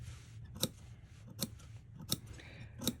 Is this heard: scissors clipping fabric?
yes